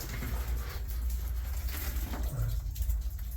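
Water drips and patters steadily inside a wet gold mine tunnel among rusty decomposed sulfide rock, a close, continuous rain-like spatter with no talking.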